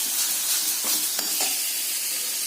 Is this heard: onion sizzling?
yes